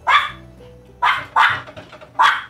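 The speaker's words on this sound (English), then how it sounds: "So she's barking, so tell her quiet." A dog barks four times close by in sharp, loud bursts with short pauses between them, a low hum underneath.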